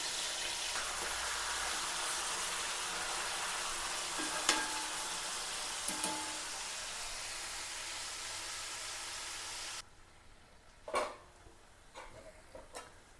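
Chicken marinated in masala, pepper, turmeric and salt shallow-fries with a loud, steady sizzle for about ten seconds. The sizzle then drops sharply, leaving quieter frying and a few clunks of stirring or lifting the pieces out.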